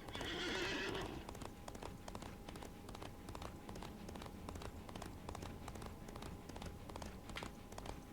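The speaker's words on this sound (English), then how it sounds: "Pretty much functions as any other horse, but at least it looks cool." A horse in the video game Disney Infinity gives a loud neigh, then gallops on with steady, rapid hoofbeats that continue for several seconds without any talking.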